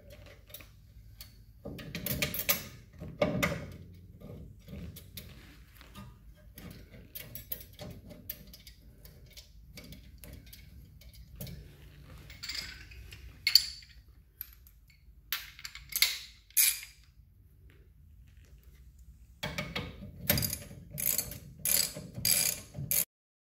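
Ratchet clicking in bursts while tightening the front brake caliper bolts on a 1977 MGB, up close. Rapid pawl ticks come in separate runs with pauses between them, and there is no talk.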